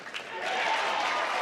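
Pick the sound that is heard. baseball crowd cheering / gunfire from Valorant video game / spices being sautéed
baseball crowd cheering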